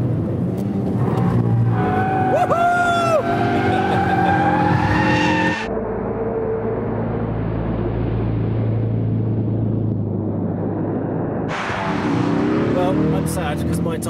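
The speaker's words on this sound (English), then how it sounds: "Now that we're in proper drift mode, see how it fares at higher speeds." A Ford Focus RS in drift mode slides at high speed, tires squealing and skidding loudly with engine revving, then a quieter steady stretch of road and engine drone before the tire squeal returns near the end.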